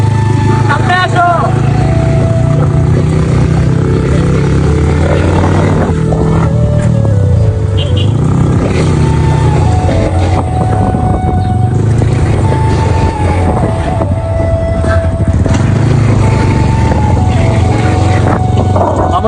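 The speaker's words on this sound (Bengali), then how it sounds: "মামুনের সাথে বাইকে চললে তুমি কি কি কি করো?" A motorcycle ride, with a loud, steady engine drone and strong wind rush recorded on the moving bike, and people talking over it.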